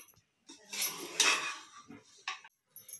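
Cooked vegetable pulao rice being mixed in a pressure cooker: a few separate metallic scrapes and clinks of a spoon against the pot, close, with short quiet gaps between them.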